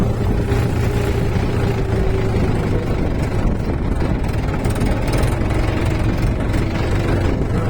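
A tractor engine runs steadily and loudly close by in a field during soybean sowing, with a constant rough drone and no pauses.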